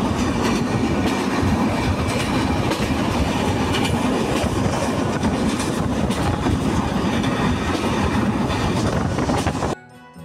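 Passenger train in Bangladesh running on rails near Jessore, a loud continuous rumble with rhythmic clickety-clack from close by that cuts off abruptly at the end.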